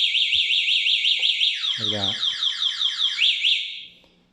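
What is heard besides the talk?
electric scooter anti-theft alarm sounding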